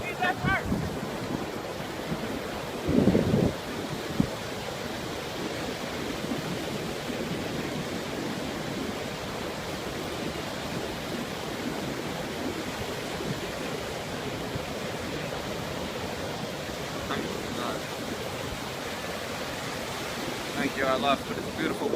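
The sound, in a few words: ocean waves at the Pacific Ocean shore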